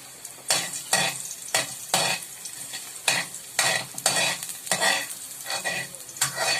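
Garlic being stirred in a cooking pot for clams in coconut milk, with about a dozen rhythmic scraping sweeps of the spoon over a low sizzle, near and distinct.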